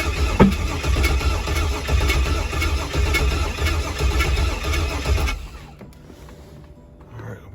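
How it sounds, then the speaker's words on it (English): A Pontiac G8 engine cranks steadily with a rhythmic starter churn for about five seconds during a repeated start attempt, then cuts off into quiet. "This is actually engine start take 6."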